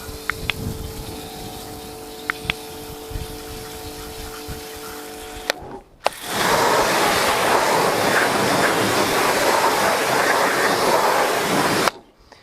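A wheel coated in ceramic car shampoo is rinsed with a water spray: quiet handling noises and faint tones first, then a loud, steady, close hiss of spraying water that cuts off sharply at the end.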